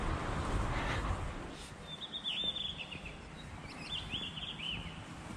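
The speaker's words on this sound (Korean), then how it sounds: "막 새소리가 울려요" High, thin birdsong chirps and trills drift in from a distance over a low, steady city rumble in a large Spanish city on the Camino de Santiago.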